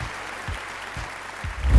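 Applause from a studio audience at a Pakistan Idol gala-round singing contest, a steady wash of clapping lasting under two seconds, swelling at the end.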